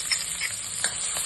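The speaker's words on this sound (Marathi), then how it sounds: "त्याच्यानंतर तो तापला की त्याच्यात घालायचे हे चिरलेले कांदे" Chopped onions sizzling in hot homemade ghee in a kadhai, a soft steady fry hiss with a few brief stirring scrapes, close and fairly quiet.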